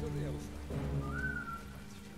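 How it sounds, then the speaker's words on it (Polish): A character's short rising whistle in a Commandos-style World War II stealth game set on the Eastern Front, heard over the game's steady ambient hum after players talk. "No dobra, to niech on sobie gwizdnie."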